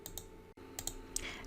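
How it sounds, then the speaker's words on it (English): Fast typing on a computer keyboard in word-processing software, with a quick run of close, light key clicks and one brief gap. "Now we can start typing our essay."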